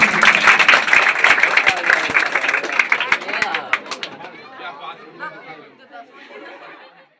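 Listeners at a class 10 and 12 board toppers result gathering clap again: a crowded round of applause mixed with chatter that fades after about four seconds, followed by talking.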